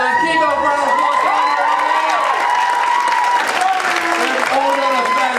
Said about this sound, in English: Well done, keep up, round of applause.